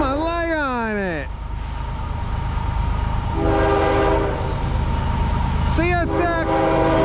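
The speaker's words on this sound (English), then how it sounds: "Well, lay on that horn." A CSX freight train horn near South Plainfield, New Jersey sounds in loud, wavering blasts at the start and again near the end, with the steady rumble of the passing freight train continuing in between.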